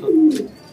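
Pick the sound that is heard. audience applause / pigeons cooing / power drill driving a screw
pigeons cooing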